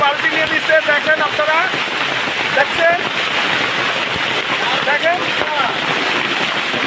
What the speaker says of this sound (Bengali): আজকের বৃষ্টি হইতেছে কত শিল বৃষ্টির চেয়ে শিলের পরিমাণ অনেক বেশি